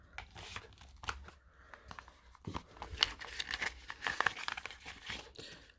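Paper pages of a tarot deck's guidebook rustle and crinkle as they are turned by hand, a close series of soft crisp flicks and shuffles with no speech.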